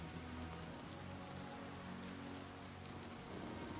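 Steady rain falling on surfaces in the video game Oblivion Remastered, a soft, even hiss of dense drops that continues without a break and with no talk.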